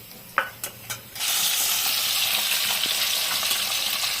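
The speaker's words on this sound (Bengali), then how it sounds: "এইভাবে সব মাছগুলো আমি ভেজে নিব।" Boroli fish frying until crisp in hot oil: a few sharp taps and clinks open, then a loud, steady, close sizzle fills the rest with no talking.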